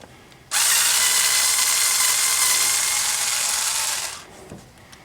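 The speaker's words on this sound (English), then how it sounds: "A little cordless screwdriver works pretty good." A small cordless screwdriver removing bolts on a Ford F150 with the 300 cubic inch inline-six engine, a loud, close, steady high whir running for about three and a half seconds before winding down.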